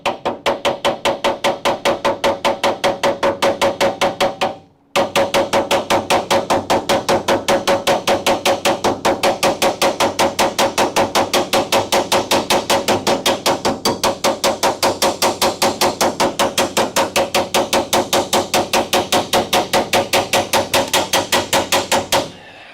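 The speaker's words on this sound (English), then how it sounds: "Got the hammer, I got the dolly, I got my flat stock." A hammer and dolly work car body metal on a Crew Cab Charger, giving a fast, loud, evenly spaced train of metallic blows that stops briefly and then keeps going at the same pace.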